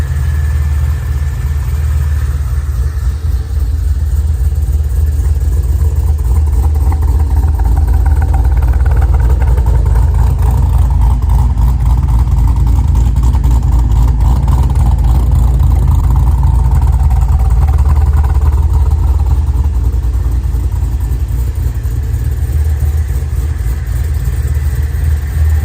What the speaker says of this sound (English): So we got the car running.